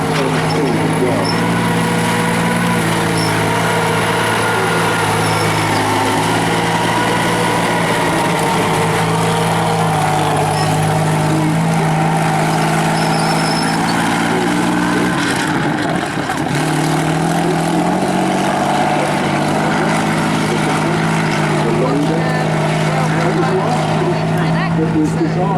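A Comet tank's petrol engine, derived from the Spitfire's aero engine, runs at a steady, deep, continuous drone with layered harmonic hum under a speaking voice.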